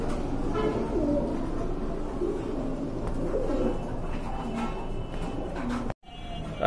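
A pair of pigeons coos softly in a bird-selling setting, low repeated calls continuing steadily under a busy, noisy background with no talk.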